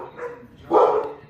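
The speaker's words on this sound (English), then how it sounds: "And dogs are excited about it too" Dogs barking excitedly indoors at breakfast time, a couple of quick yips early on, then a louder cluster of barks and yelps close by, with no talk over it.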